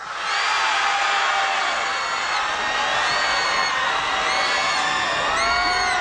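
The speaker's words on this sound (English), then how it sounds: "The crowd is getting too excited right now" A pageant audience at Miss Philippines Earth 2010 cheers and whoops loudly, high yells and shouts rising over a dense, sustained crowd roar that never lets up.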